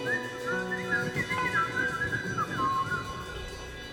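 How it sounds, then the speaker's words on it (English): A person whistles a meandering little tune, the melody wandering up and down over soft background rustle. "We were walking through the woods, whistling a little tune."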